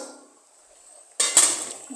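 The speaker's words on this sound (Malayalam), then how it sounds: "നമുക്ക് മൂടി വെക്കാം" A lid set onto a cooking pot while making vattayappam lands with a sudden metallic clink and a brief ringing rattle after a quiet stretch, close by.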